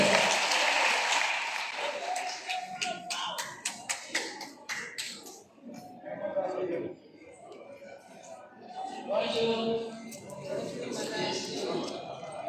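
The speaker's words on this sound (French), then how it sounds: "On applaudit très fort, s'il vous plaît." A crowd at a general assembly applauds loudly for several seconds, then the clapping thins into scattered, distinct claps and fades as voices take over, with talking continuing to the end.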